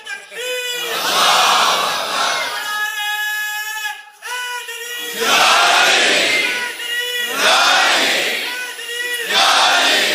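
A large crowd of young men chants slogans in loud, rhythmic waves at a religious gathering, voices surging together in repeated bursts with brief dips between them.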